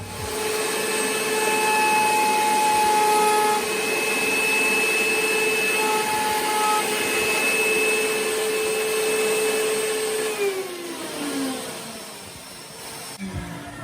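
A power tool whines steadily as it cuts a chamfer around holes in a wooden votive holder, a loud sustained tone that drops in pitch near the end as the tool slows.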